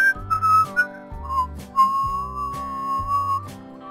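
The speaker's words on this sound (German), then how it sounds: "Schönes Pfeiferlied." A tune whistled in clear, sustained melodic notes over a regular beat of low musical tones, several phrases in a row, bright and close with no talking, heard during a Hearthstone match.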